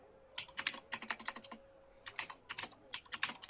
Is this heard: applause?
no